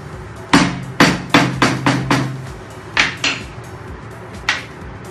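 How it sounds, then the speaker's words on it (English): Sharp metallic taps from a 3/4 inch schedule 40 black pipe drift seating a lip seal into a pump cartridge, about ten close knocks in irregular bursts with short ringing decays and quiet gaps between. "using a 3/4 inch skid 40 piece of black pipe as a drift, gently tap the lip seal into place"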